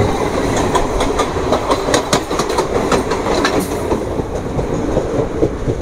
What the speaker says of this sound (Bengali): ডানকুনি শিয়ালদহ লোকাল